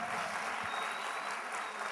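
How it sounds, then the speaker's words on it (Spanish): A church congregation applauding during a sermon, dense continuous clapping that sounds somewhat distant and evenly sustained over the short stretch. "Denle ese aplauso bien fuerte al Señor"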